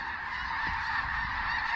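A flock of snow geese honks at sunrise in a dense, continuous chorus of overlapping calls that carries from moderately far, with a brief low thump in the middle.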